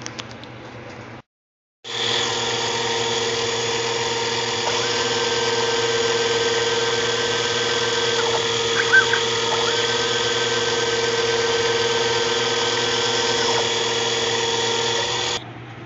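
A PCB milling platform cuts through a circuit board with a steady, close, high-pitched spindle whine that starts after a brief silence and holds evenly, with small shifts in tone as the cutter moves.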